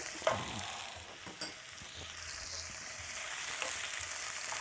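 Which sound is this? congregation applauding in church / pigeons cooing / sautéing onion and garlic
sautéing onion and garlic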